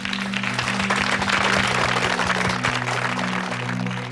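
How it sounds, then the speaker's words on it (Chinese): Studio audience applause on a Chinese singing game show, a dense, steady patter of clapping lasting a few seconds over a low sustained hum. "掌声欢迎。"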